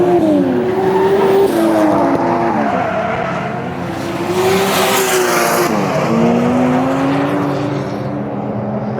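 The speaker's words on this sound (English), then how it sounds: "And speaking of Taniguchi, I came up here to have a look at him come round, so he's gonna make an appearance right now." Taniguchi's Lexus RC F drift car lapping Mobara Circuit, its engine rising and falling through gear changes as it passes at a distance, with tyre squeal and hiss breaking in midway.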